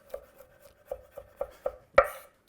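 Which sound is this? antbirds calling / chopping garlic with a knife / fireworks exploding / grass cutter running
chopping garlic with a knife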